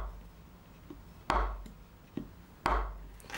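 A Böker Plus knife chops down onto a wooden chopping block, giving a few sharp, close thuds at uneven intervals, the loudest two standing out clearly over a low background.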